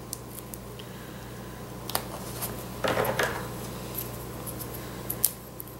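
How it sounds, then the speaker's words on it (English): Tape pulls off a nearly finished roll in a short ripping burst midway through, surrounded by faint scattered clicks and rustles over a low steady background hum, with no talking. "Coming to the end of that roll of tape."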